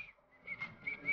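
A short whistled melody, a few quick bright notes, heard faintly with no talking.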